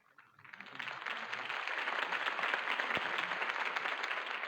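Crowd applause at a campaign party in the video game Batman: The Telltale Series, swelling quickly from quiet into a sustained wash of clapping that stays fairly distant and soft.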